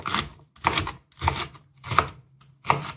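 Knife chopping Chinese cabbage into large pieces on a board, five evenly spaced crisp cuts close by, each a short crunchy strike with quiet gaps between.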